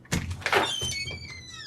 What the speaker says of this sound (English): Later that night, the front door